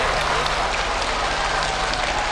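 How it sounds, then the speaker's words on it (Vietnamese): Dense, steady applause from a studio audience for two competing families on a Vietnamese TV game show, a loud continuous patter that fills the whole stretch without a break. "Vỗ tay cho hai gia đình đi các bạn"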